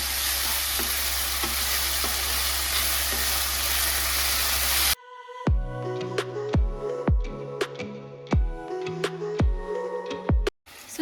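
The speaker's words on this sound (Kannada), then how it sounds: "ಇವಾಗ ಇದನ್ನು ನಾನು ನೀಟಾಗಿ ಮಿಕ್ಸ್ ಮಾಡ್ಕೊಳ್ತೀನಿ" Ketchup mixed with cornflour water in a pan, starting with a loud steady sizzle that cuts off, then close scraping and clinking stirs in an irregular rhythm.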